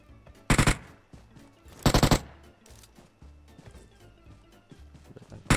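Gunfire in a battle royale video game: two loud, rapid automatic bursts and another starting at the end, separated by quieter game sounds such as footsteps.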